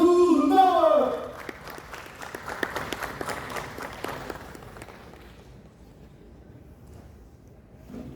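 Applause at a business launch event for a woman-led mutual fund company, starting after a loud voice and then settling into moderate, scattered clapping from a crowd that fades gradually toward the end.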